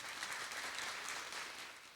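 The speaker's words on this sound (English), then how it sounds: "Please give them a huge round of applause." Graduation ceremony applause for a Year 13 graduating class, a soft, steady wash of clapping heard from a distance and tapering slightly at the end.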